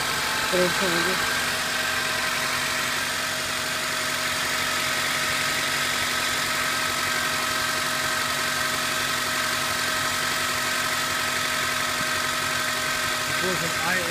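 A 2005 Honda Accord's 2.4-litre four-cylinder engine, a running vehicle with about 162,715 miles, idles at a constant drone with a steady low hum and slight vibration, unchanging throughout.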